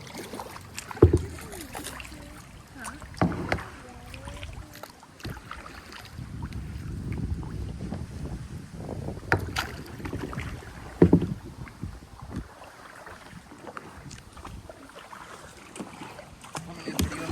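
A kayak paddles along the Weeki Wachee River, with soft water splashes and paddle strokes recurring irregularly over wind noise and outdoor ambience, people talking faintly at times.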